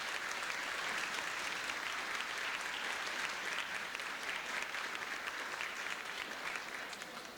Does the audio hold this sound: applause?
yes